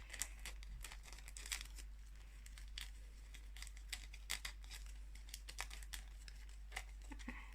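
Paper cut with scissors for a craft mini projector, faint crinkling and snipping in irregular bursts over a low steady hum.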